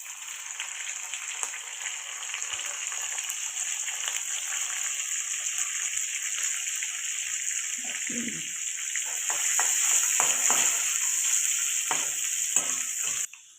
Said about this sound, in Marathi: इथे ती मिरची आपण आता टाकून घेऊया